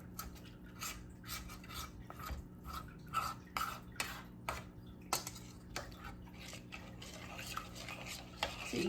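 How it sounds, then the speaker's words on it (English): A spoon stirs a thick cornstarch slime mixture in a bowl, giving repeated soft scraping and ticking strokes close by at a steady, quiet rhythm. "So you keep stirring."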